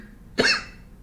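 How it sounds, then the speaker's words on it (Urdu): A single short, sharp cough from a nearby person, with quiet room tone on either side. "مجھے کھانسی لگی ہوئی ہے"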